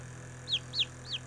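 Baby chicks on a homestead give three quick, high chirps, evenly spaced and fairly close, over a steady low background hum.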